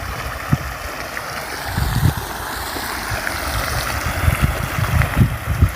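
Water from a motor pump pours steadily into a farm irrigation channel, a continuous rushing and gurgling stream close by with small splashy surges.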